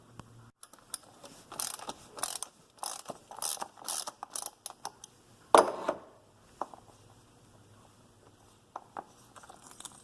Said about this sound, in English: Allows you to put your 3/8 drive ratchet right on there and loosen it.